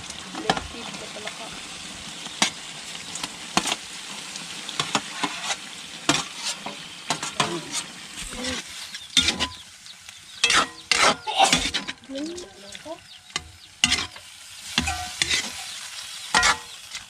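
Steady sizzling of frogs frying in hot oil, broken by clinks and scrapes of a utensil stirring the pan, close by with no talking.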